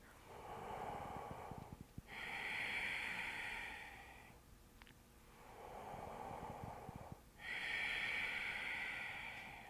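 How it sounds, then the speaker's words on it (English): Slow deep breaths during a yoga pose, close and soft, with two long airy inhale-exhale cycles each lasting several seconds. "Allow the breath to be really big here. As you inhale, feel your belly pushing against your thigh. And as you exhale, watch the belly draw in."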